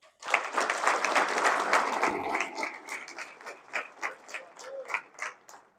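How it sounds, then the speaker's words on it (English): Football team applauding its coaching staff at a pregame gathering, a burst of loud group clapping that swells quickly, then thins into scattered, separate claps before fading out. "I want you to give your coaching staff a round of applause."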